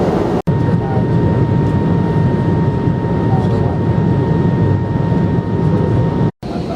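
Inside a Delta Airlines airplane cabin coming into Atlanta airport, a loud, steady engine roar carries a faint tonal hum and drops out sharply twice for an instant.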